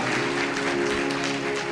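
A sermon congregation claps together in a short, even burst of applause, a fairly faint wash of many hands heard without talk.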